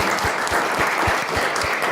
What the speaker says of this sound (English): So shall we give a round of applause to our panelists?